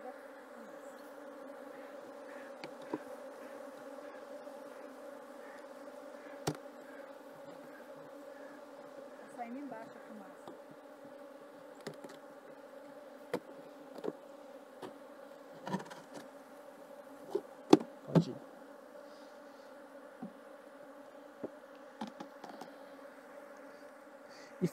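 A swarm of defensive honey bees buzzes constantly at a hive, a close, sustained droning hum with scattered clicks and knocks, while a person talks intermittently.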